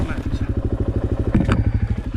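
A motorcycle engine thumps in a steady, rapid pulsing beat, revved lightly during a slow wheelie attempt, close and loud with a brief clatter midway.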